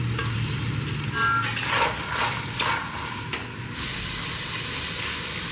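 Finely chopped medium onion frying in ghee for a mutton curry, a steady close sizzle and hiss with a few brief stirring scrapes, no voices.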